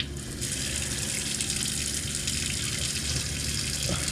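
Water gushes steadily into the tank of a 2021 Passport travel trailer, a continuous hissing rush that starts abruptly and holds even and fairly loud to the end.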